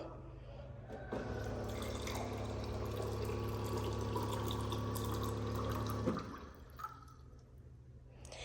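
IBBL E-Due Freedom water purifier filling, a soft, steady hum with flowing water that runs for about five seconds, then stops and leaves quiet room tone with a few faint clicks.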